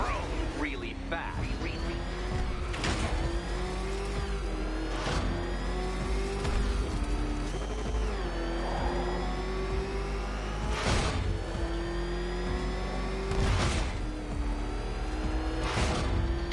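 The Batmobile's engine drones and revs continuously in a video game, with a steady pitched whine shifting up and down and periodic whooshing bursts, while a voice talks over it.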